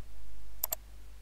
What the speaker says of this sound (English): That's the sound of someone building over.